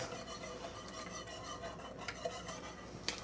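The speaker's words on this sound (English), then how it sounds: "I'm supposed to be stirring this constantly." Constant stirring of a honey mixture in a pot, a soft continuous scraping and swishing with occasional light clinks, close and without talk.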